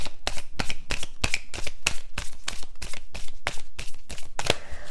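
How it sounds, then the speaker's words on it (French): Oracle cards are handled and laid out one after another, a fast series of about fifteen crisp papery snaps and slides at an even rhythm, close and fairly loud with no voices. "on va prendre l'oracle des miroirs et on va recouvrir ici les cartes énergétiques"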